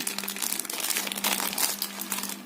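Leaf wrapping is folded by hand around soft pork rib sausage, making close, dense crinkling and crackling that rustles unevenly throughout, with no speech.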